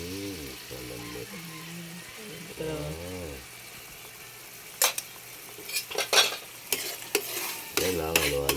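A utensil stirs egg and corned beef frying in a pan, with clinks and scrapes against the metal over a low sizzle. Talk runs through the first half, and the stirring grows busier and louder toward the end.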